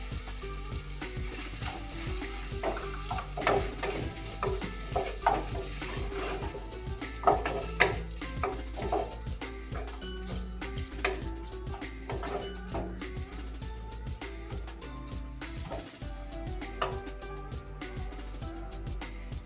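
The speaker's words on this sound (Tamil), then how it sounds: "இந்த மாதிரி குட்டி குட்டியாக நம்ம இப்போ இதில் போட்டு ஃப்ரை பண்ணிக்கலாம்." Onions sizzle steadily in a pan while frying for chicken sukka, with scattered clinks and scrapes of a utensil and a constant low hum in the background.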